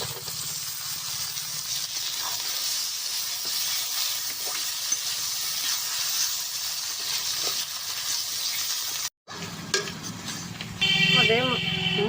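Tomato and onion fry with crab innards in oil, hissing and sizzling steadily up close, followed by a short gap and then louder sizzling with a voice over it.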